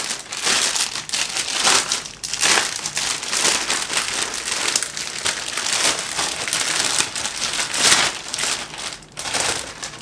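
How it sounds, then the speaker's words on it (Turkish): A plastic dry-aging bag crinkles and rustles steadily as a piece of meat is placed inside it at home. The crackling is close and continuous throughout, with louder crumpling bursts and no speech. "Etimi alıyorum. Bunun içine yerleştiriyorum."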